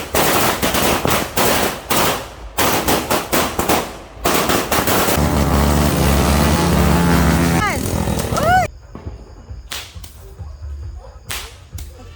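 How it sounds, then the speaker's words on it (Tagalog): Strings of New Year firecrackers go off close by in rapid crackling bursts, then a dense continuous rattle, followed by scattered single bangs with near silence between them. "meron siyang mga paputok dito."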